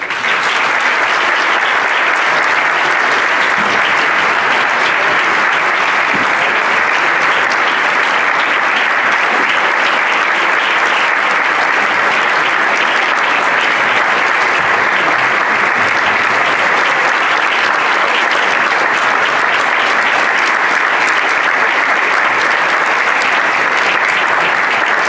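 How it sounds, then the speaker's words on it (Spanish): Sustained, loud, even applause from a concert audience for the band director at a Santa Cecilia concert by a Spanish municipal wind band, continuing without a break and with no speech over it. "demos un fuerte aplauso al director de la banda de Educandos, José María Navarro Forníes, y a Ana Sabater"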